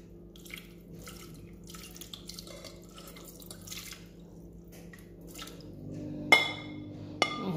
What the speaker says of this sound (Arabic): كيف نشلل الطبسي هكذا بالماء.